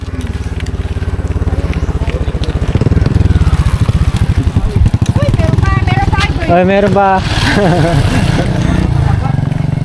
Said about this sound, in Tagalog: Tabi-tabi, may motor.